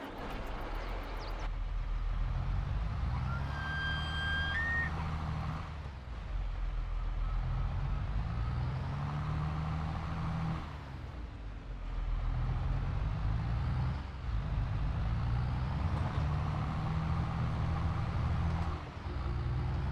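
A tractor engine in Farming Simulator 22 on the Elk Mountain Wyoming map, a steady low rumbling drone that runs throughout with brief dips, plus a short high beeping tone early on.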